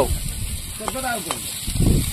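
Potatoes and mutton frying in hot oil outdoors beside a river, a steady close sizzle with stirring scrapes, loud and continuous over a brief span.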